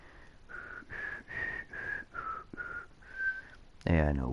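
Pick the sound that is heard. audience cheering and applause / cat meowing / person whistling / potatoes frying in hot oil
person whistling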